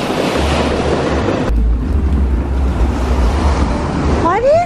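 Ocean waves and a strong water current make a loud, continuous rushing roar, with wind buffeting the microphone throughout.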